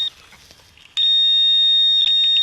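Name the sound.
metal detecting pinpointer beeping on a target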